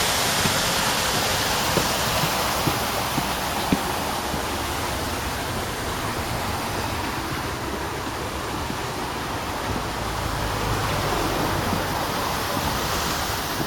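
Water rushing out of a full canal lock, a steady loud broadband roar like a weir or waterfall, constant and close throughout with no talking.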